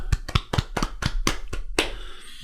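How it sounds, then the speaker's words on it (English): A short burst of applause: about seven sharp, close hand claps in a quick, fairly even rhythm over two seconds, with no talk. "I think that deserves both a pause and a round of applause."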